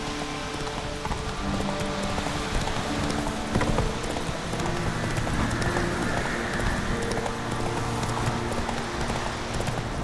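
Horse hooves pounding in a steady gallop in The Witcher 3 video game, continuous and fairly loud over a dense game soundscape.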